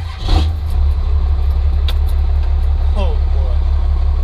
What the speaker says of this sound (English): This will be the third one. This is a 91 non-intercooled 12-valve first gen. But he hasn't heard the new exhaust system.